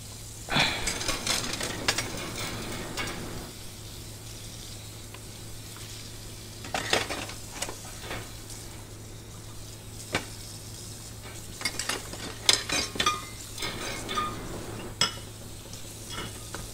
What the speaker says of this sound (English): wanna wash the dishes all of a sudden